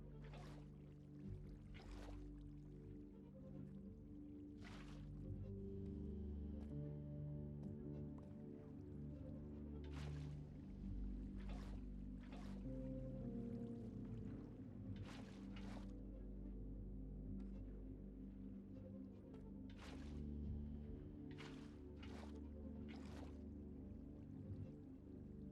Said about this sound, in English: you need to place water blocks in the corners